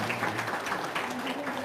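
Audience applause at a talk, a dense patter of clapping from a crowd, held at an even level with a faint voice murmuring beneath.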